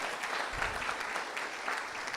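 A church congregation breaks into dense, continuous clapping during a worship service, steady and fairly loud throughout the short burst.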